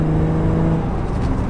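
A BMW M5 E28 saloon lugs along at low speed on engine torque, a close, steady low engine rumble with a faint whir, no voices.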